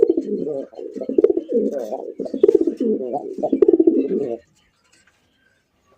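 Pigeons coo at a pigeon farm, a close, continuous run of throaty cooing calls for about four seconds before it cuts off to silence.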